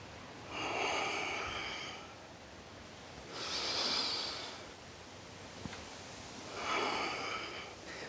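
Three slow, audible breaths during yoga squats, rising and falling at an even pace with long airy exhales spaced a couple of seconds apart, close and soft.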